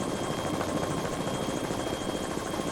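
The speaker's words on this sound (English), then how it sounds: "taking off in Marine One for an aerial tour of flood-ravaged areas with Governor Terry Branstad" Helicopter flying over flood-ravaged areas of Iowa in 1993, its rotor thudding in a steady, fast, close chop with a continuous engine whine, loud and unbroken, with no voices.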